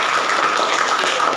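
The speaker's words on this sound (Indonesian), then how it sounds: "Berikan tepuk tangan untuk kelompok 2." Classroom applause for student group 2, a brief burst of many hands clapping together, loud, dense and steady for about a second, with no talk over it.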